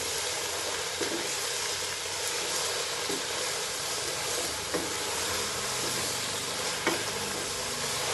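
Vegetables fry in a pan in a Malaysian home kitchen, a steady broadband sizzle running throughout with soft scraping stirs of a spatula at intervals, close and fairly loud, no voices.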